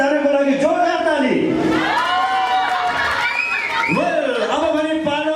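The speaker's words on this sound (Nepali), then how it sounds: "एकपल्ट यहाँ सबैजनाको लागि जोरदार ताली।" A large audience at a live music show in Dubai shouts and cheers loudly and continuously, with whoops and voices rising in waves, the cheering dense and close.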